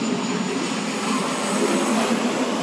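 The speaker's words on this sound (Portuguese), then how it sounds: "Um avião passando agora." An airplane passes overhead with a loud, steady broadband roar of jet engine noise, sustained and close, filling the whole moment with no other sounds.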